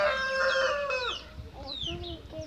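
Chickens clucking close by, with a rooster's long drawn call at the start and several short clucks and squawks following, fairly loud.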